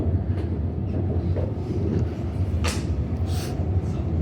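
An HCMT metro train on Melbourne's Frankston line passes with a steady rumbling roar and low hum, broadband rail noise holding throughout with a few brief higher squeals and clicks.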